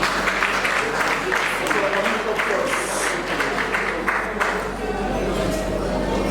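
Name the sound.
audience applause at ceremony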